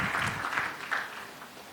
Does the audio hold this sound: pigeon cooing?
no